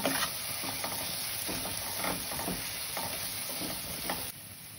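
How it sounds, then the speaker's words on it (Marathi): Cooked chickpeas (chole) are mashed with a spoon in a hot pan, giving soft repeated scraping and squashing strokes over a steady low sizzle, close and without talk. "थोडेसे आपण त्याला असे स्मॅश करून घेऊया"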